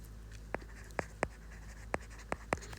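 A pen writing out the working of a linear inequality math solution on paper, six short sharp scratchy strokes at irregular intervals over faint background hiss, close and alone.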